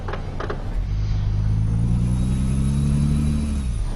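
A Peterbilt 389-style truck engine in Euro Truck Simulator 2 (modded), a loud, close diesel drone rising as it accelerates, holding a steady rumbling tone before easing off at the end.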